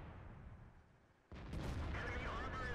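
A tank cannon shot from an SU-122-44 tank destroyer in the game World of Tanks, a sudden loud blast cutting through quiet background rumble, followed by a ringing tail.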